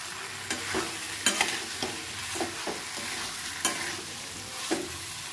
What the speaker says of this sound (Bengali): কাবলি চানাটা দিয়ে কিছুক্ষণ কষে নেব